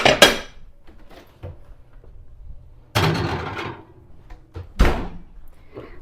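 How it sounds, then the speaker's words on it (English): A 9 by 13 casserole dish goes into a preheating oven, with a few clattering knocks and thuds, a louder clunk as it slides in, and a firm bang as the oven door shuts, separated by quiet gaps. "I'm going to stick it right in the oven while the oven is preheating"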